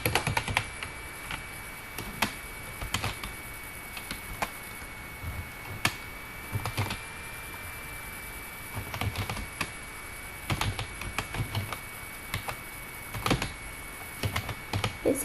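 Keys clack on a computer keyboard in irregular close bursts of typing, with pauses between and occasional sharper taps like the enter key, over a steady low hum.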